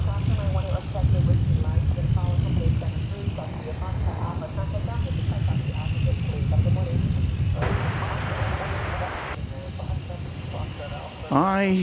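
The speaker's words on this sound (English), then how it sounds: "I hear a Martinair, the Cessna 208B Super Cargo Master" A Martinair Cessna 208B Super Cargomaster turboprop drones past near DFW Airport in North Texas, a continuous loud engine rumble with a steady hum, while someone talks over it.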